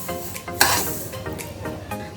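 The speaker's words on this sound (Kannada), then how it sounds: "ಈಗ ಮೆಂತ್ಯನ ನಾವು ಹುರ್ಕೊಂಡು ಬಿಸಿ ಮಾಡ್ಕೋಬೇಕು ಬೆಚ್ಚಗೆ" Fenugreek seeds being dry-roasted in a pan without oil for mango pickle, with light stirring scrapes and a sharp clink of utensil on metal, close and alone.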